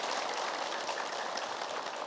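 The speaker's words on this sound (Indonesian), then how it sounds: "tepuk tangan buat semuanya ya" A studio audience at an Indonesian religious talk show claps, making a dense, steady wash of applause that holds at an even level for about two seconds.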